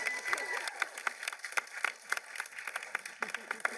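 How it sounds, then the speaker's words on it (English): An audience at a convention expo panel gives a round of applause, with dense, lively clapping that carries steadily throughout and a bit of cheering mixed in. "round of applause for Anthony"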